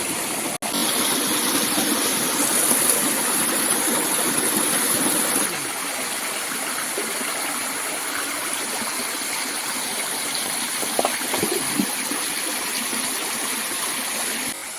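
Clear mountain stream water flowing over rocks in a rainy-season forest, a steady close rushing wash that continues throughout, slightly softer in the second half, with no speech.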